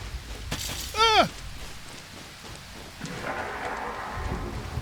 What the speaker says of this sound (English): Boy, this is not a good storm.